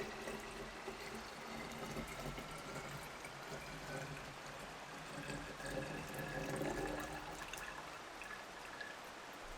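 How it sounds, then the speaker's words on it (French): Homemade plant-based liquid laundry soap trickling slowly through a cloth filter, a steady soft pouring and dribbling wash of liquid that runs unbroken and fairly close throughout. "on fait passer tout doucement le liquide à travers le tissu"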